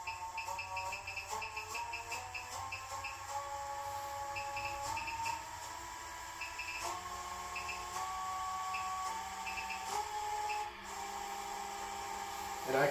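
Nova Nebula woodturning lathe running at 450 RPM, a quiet steady motor hum with faint tonal whine, accompanied by scattered beeps and a voice talking over it.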